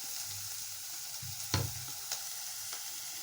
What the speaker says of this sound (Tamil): இது நல்லா வெங்காயம் நல்லா வதங்கட்டுங்க.